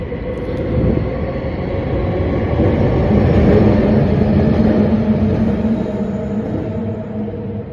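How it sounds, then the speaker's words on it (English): An elevated SkyTrain passes overhead with a loud, sustained rumble and rail hum that swells toward the middle and stays steady, with no voices. "I really hope the SkyTrain going overhead isn't like, super loud in the ear"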